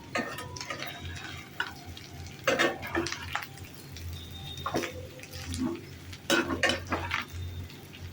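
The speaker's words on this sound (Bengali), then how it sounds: "ভালো করে এবার এটাকে মাখিয়ে নেব" Mixed fried rice with dark soy sauce and pepper being stir-fried in a pan at home: a low background sizzle with intermittent clattering scrapes and knocks of a spatula against the pan in uneven bursts.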